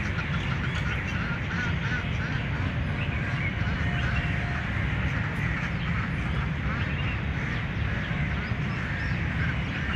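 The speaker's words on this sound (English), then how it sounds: "Here you can see these beautiful ducks, the smaller variety, and they are" A flock of small ducks quacks and chatters continuously, a dense overlapping babble of calls that carries on throughout.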